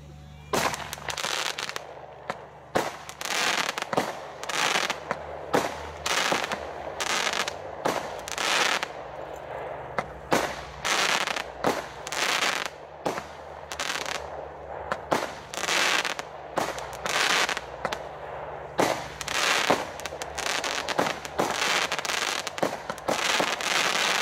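A Nightbeam fireworks battery firing 25 shots of 20 mm caliber, loaded with 163 grams of net explosive, bursts in a rapid, loud, sustained run of sharp cracks and booms, close by, with no talk over it.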